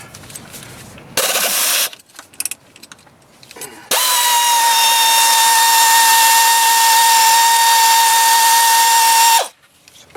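Power tool spins out the upper brake caliper bolts on a 2004 Jeep Liberty during front hub work: a few short bursts, then one long loud steady whine of about five seconds, close by, with no talk.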